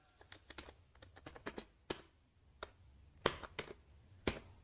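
Keys clatter on a computer keyboard as code is typed, a quick irregular run of crisp clicks with a few sharper, louder strikes, close up and alone in a quiet room.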